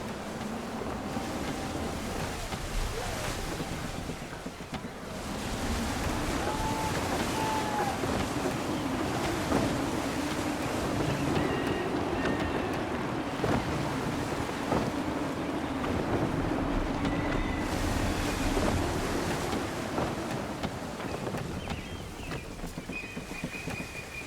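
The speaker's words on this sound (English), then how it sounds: "Gusty winds can be difficult to manage." Gusty wind roars steadily while a sailing ship cuts through waves in Assassin's Creed III, a broad rushing wash of wind and water that swells after the first few seconds, with faint voices underneath.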